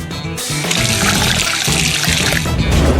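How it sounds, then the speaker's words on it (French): Coca-Cola and sugar mixture poured into a glass, a steady liquid splashing and trickling that runs continuously at close range, with no voices. "Il ne reste plus qu'à verser le tout dans un verre."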